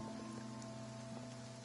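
Steady rain falls in the video game Genshin Impact, tied to a Hydro elemental dragon, a soft continuous patter with a faint tonal hum layered underneath.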